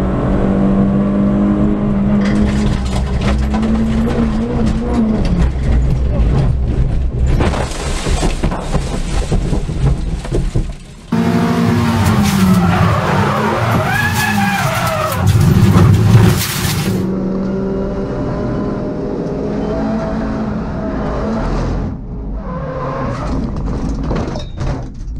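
Race cars lap Cadwell Park circuit, their engines revving and passing loudly with rising and falling pitch, and a burst of tire squeal and harsh noise in the middle.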